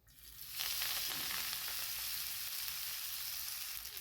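Ambadi leaf vegetable, already coated with chili, salt and ground peanut paste, hits hot oil with a rising sizzle that settles into a steady, fairly loud frying hiss with no voices.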